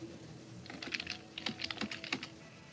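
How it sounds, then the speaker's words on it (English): Faint keyboard typing comes through an unmuted microphone on a group conference call, with irregular clusters of key clicks over a quiet hum and no one speaking. "I do hear a little bit of typing, so somebody's got an unmuted microphone."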